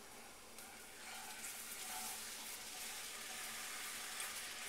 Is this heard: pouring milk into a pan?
yes